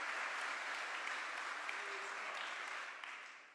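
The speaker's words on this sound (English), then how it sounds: "Give him a round of applause." A round of applause at a news conference about an ammunition company's Pryor facility: sustained clapping from an audience, fairly distant and even, fading slightly at the end.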